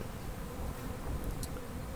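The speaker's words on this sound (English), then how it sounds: "That's a lot of bees." A honeybee swarm gathered inside a bucket, producing a dense, continuous close buzzing drone with no voices.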